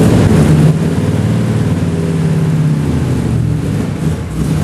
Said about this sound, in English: The engine originally came from a 1953 Ford Pop, which had been tuned to make it more responsive and powerful.